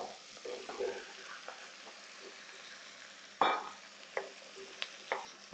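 Mirepoix vegetables sizzle quietly in a pan for braised short ribs, a low steady fry broken by a few sharp scrapes and clatters of stirring.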